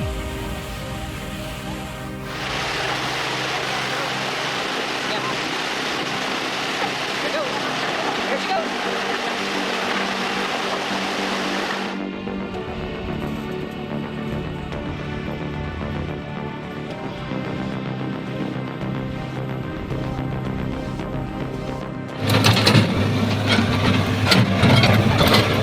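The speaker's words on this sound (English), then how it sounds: "The roar of the engine echoed throughout the forest" A giant off-road truck revs its engine while wading through a raging forest stream, a loud continuous roar that drops to a rumbling idle midway and surges again near the end, with voices talking over it.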